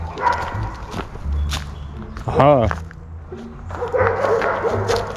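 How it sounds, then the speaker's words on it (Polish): A German shepherd barks a few times at another guard dog, a short burst of sharp barks among footsteps and outdoor noise, with a person briefly speaking nearby. "Słyszę jakiegoś szczekającego owczarka niemieckiego."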